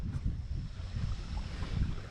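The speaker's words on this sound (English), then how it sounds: "It's a little windy today" Steady wind rushes across a lake during a catfishing outing, a continuous low buffeting roar with faint background hiss.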